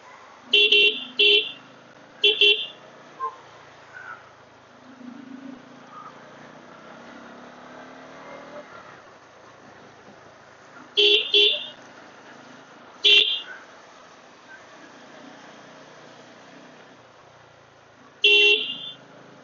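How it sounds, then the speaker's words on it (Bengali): Car horns honk in short, loud double and triple bursts on a busy street at Ranipool market near Gangtok, over a steady hum of passing traffic and engines. "এই হচ্ছে এখানকার রাস্তা, এটা হচ্ছে রানীপুল মার্কেট।"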